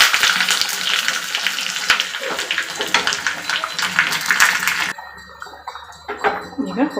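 Curry leaves dropped into hot tempering oil with popped mustard seeds, a loud close sizzle and spatter that cuts off abruptly, followed by softer scraping and stirring sounds.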